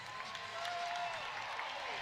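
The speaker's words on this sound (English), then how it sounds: "Jaden Wooten takes a breather and gets a well-deserved hand from the crowd." Crowd applause at a women's college basketball game between Baylor and Oklahoma State, a steady wash of clapping and murmur through the arena with a faint whistle tone partway through.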